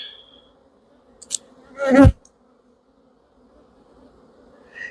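Honeybees buzz around an open hive, a faint steady hum through the background with one bee sweeping loudly past close by in a brief swelling drone, plus a few small taps.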